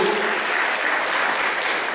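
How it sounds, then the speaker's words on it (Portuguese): A Catholic congregation claps together during a sermon, a steady, even burst of many hands applauding throughout at moderate loudness, with no speech over it. "Pode aplaudir de novo, porque Cristo é o Salvador."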